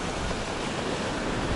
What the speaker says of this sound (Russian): Какие волны-то, разошлось. Морюшка разошлось.